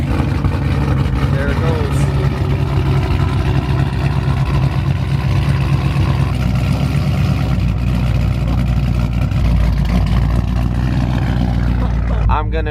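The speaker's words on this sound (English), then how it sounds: "First cold start in the day, let's hear it. Beware, hella loud." A cammed, straight-piped Dodge SRT8 V8 cold-starting and settling into a loud, lumpy idle, a deep rumble that stays steady and close throughout while a person briefly speaks over it.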